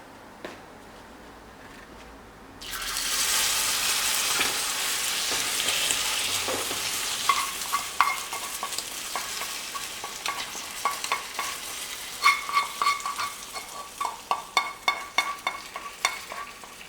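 Pork sizzles and fries with brown sugar in a pot, a steady loud hiss with a spoon or spatula scraping and clinking in a quickening rhythm toward the end.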